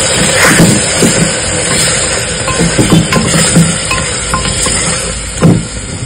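Onion, tomato and green chili paste stirred into a pan of Afghani-style meat and potatoes, with soft clinks of a spoon against the pot over a steady low sizzle and hum, no talking.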